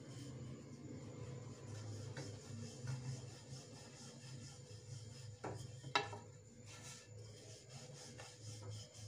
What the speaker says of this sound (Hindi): मीडियम साइज़ की हम लोगों को पूरी बेलनी है